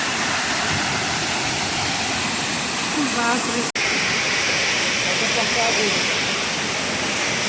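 A waterfall roars steadily and loudly, a constant rushing wash of water, with a faint voice briefly audible beneath it.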